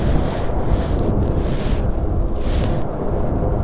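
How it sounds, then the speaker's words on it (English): Strong wind of about 100 km/h buffets the microphone in a steady, roaring rush with slow gusts, loud and close, no voices. "It's windy."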